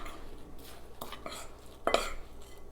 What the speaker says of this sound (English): add the spicing, the cinnamon, the baking soda, and the salt, and just give it a stir